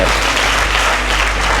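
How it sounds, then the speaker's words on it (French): Audience applause at a graduation ceremony, a dense steady wash of many hands clapping, loud and continuous throughout with no voices rising above it. "Je vous prie d'applaudir également à ceux qui sont installés derrière"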